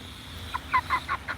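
Backyard chickens give a short run of four or five soft clucks in quick succession, close by against a quiet outdoor background.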